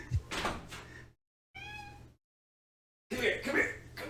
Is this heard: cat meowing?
yes